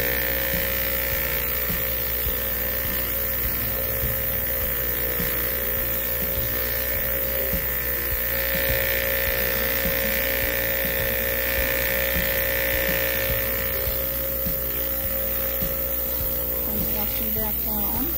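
A rock tumbler churns green citrine crystal in slurry, running loudly with a constant mechanical hum and rumble throughout, no pauses, close up.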